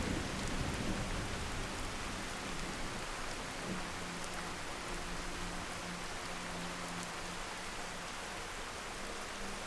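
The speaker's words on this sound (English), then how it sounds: "rain isn't letting up." Steady, heavy rainfall in the video game Skyrim Special Edition, hissing evenly throughout, dense and constant with no breaks or voices.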